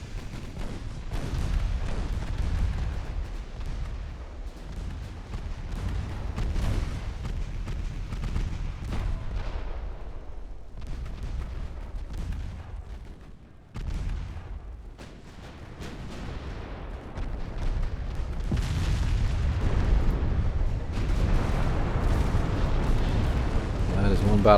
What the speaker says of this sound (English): I think that light cruiser just ate a bunch of shells that were meant for the battleship Zealandia